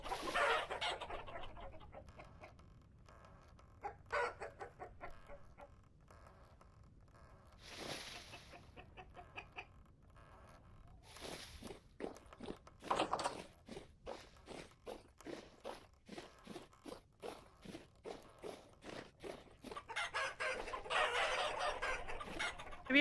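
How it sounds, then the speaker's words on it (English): Chickens in the video game Vintage Story cluck in a fast, rhythmic series of short calls, with occasional louder squawks and some footsteps, moderately close and without talk. "The chickens have been escaping again."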